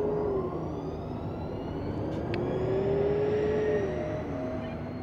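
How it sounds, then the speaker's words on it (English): A Toyota Class 8 fuel cell truck, powered by two Mirai fuel cell powertrains, drives at the Port of Los Angeles, giving a steady electric whine that rises and falls over broad road noise, fairly close. "It's a full series Class 8 truck that combines the powertrains out of two Mirai fuel cell vehicles"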